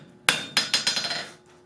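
Hammer blows on hot steel while forging a flux spoon, a loud first strike then a quick run of about eight ringing hits that taper and fade, with no talk.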